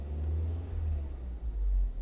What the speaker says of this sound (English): as I raise the RPM, you'll hear the engine get louder